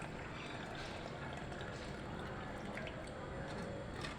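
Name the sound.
water poured while rinsing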